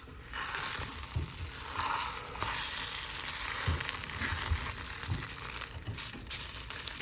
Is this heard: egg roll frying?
yes